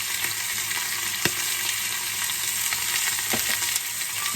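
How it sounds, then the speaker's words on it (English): Short rib sears in about a tablespoon of oil in a pot. It gives a steady, close frying sizzle with a couple of brief sharper pops and no talk. "Add a little bit of oil, literally just a tablespoon of oil. And I'm gonna go ahead and transfer my rib in here."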